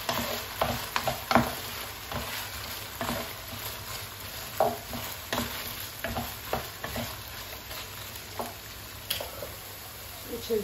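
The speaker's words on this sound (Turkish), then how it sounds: "Bir adet büyüklerinden kuru soğan, bir adet yeşil biber ve kırmızı biber, iki adet de yeşil biberi biraz edip kavuruyorum." Onion with green and red peppers sautés in a pot under a soft, steady sizzle, while repeated spoon scrapes and taps against the pot come in an irregular rhythm, close by, with no talking.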